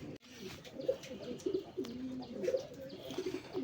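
Domestic desi and Raj Golla pigeons cooing close by, soft repeated low throaty coos in overlapping phrases, with faint chirps and light rustling in a quiet setting.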